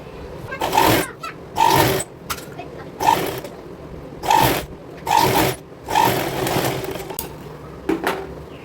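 Sewing machine stitching together the two legs of a girl's co-ord set for ages five to six: about eight short buzzing runs of stitching, close and fairly loud, separated by brief pauses.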